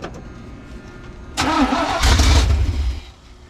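A 1980s square body truck engine cranks and catches, firing into a loud, rough run that swells for about a second and a half. Then it settles back to a quieter idle, heard close by with no talking.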